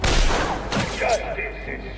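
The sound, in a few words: gunfire in Batman Arkham City video game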